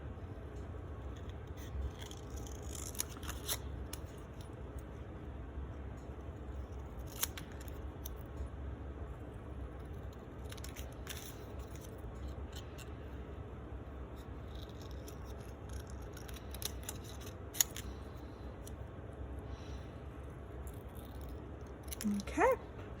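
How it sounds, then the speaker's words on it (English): Scissors fussy cutting out small stamped paper pieces for a card, quiet scattered snips and soft crisp paper rustles over a low room hum, with brief faint sounds of handling. "I'm going to use my scissors to fussy cut those out."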